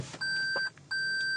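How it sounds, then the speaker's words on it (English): A 2020 Toyota Prius Prime's reverse warning sounds inside the cabin: two identical electronic beeps, each about half a second long, evenly spaced, clear and close against quiet background. "It beeps on the inside, not on the outside, to let people know that I'm reversing."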